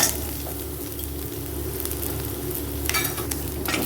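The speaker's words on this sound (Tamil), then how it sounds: "மல்லித்தூள் போட்டு வச்சு ஸ்லிம்மில் வச்சுக்கோங்க" Coriander powder frying in a pan on low heat while making a sprouted horse gram curry, a steady close sizzle with a soft crackle and a brief stirring scrape near the end, no talk.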